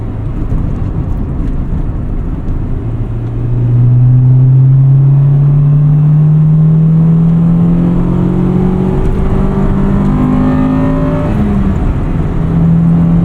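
A 1998 Acura Integra Type R heard from inside while driving, its engine droning steadily, then swelling louder and climbing in pitch through a hard acceleration with rising revs, no talking.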